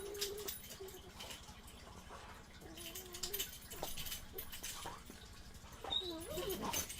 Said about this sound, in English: I'm getting beat up by my dogs, and they're gonna knock my desk over one of these days.